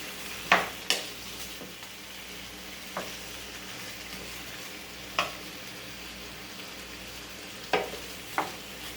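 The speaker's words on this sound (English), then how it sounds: "Go ahead and cook until it get glazed, the tomatoes get a little bit caramelized." Tomatoes with cascabel and japonés chiles fry in a pan with a steady, soft sizzle, broken by a handful of sharp scrapes and knocks from stirring.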